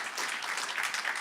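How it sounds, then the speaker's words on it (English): Brief burst of audience applause at an online poetry jam, steady and dense clapping for just over a second with no voices over it. "let's just give another round of applause"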